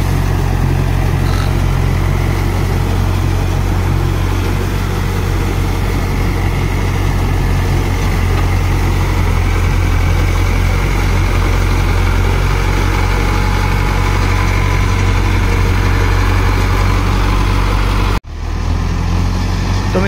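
A tractor engine runs steadily with a cultivator or rotavator in L4 gear, a loud continuous low rumble close by that cuts off abruptly near the end.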